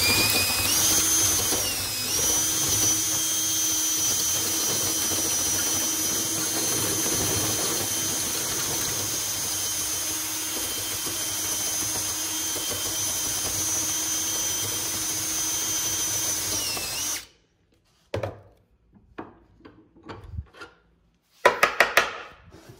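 Power drill with a bit boring into a part clamped in a vise, a steady high-pitched whine for about seventeen seconds before stopping, followed by a few short knocks and clatters.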